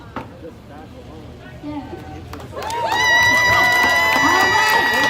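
A crowd outside a home at a no-evictions rally in Minneapolis bursts into loud, sustained cheering, whistling and shouting after quieter chatter, and keeps going to the end.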